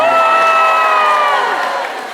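A live audience at a panel on Black representation in anime cheers and whoops loudly and steadily for about two seconds, high excited voices blending into a bright roar that tapers slightly at the end.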